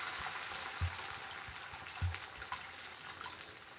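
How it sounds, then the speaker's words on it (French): Water poured into a cooking pot of simmering vegetable broth, a steady soft splashing gush that runs throughout with a few faint knocks underneath. "j'ajoute une quantité d'eau raisonnable"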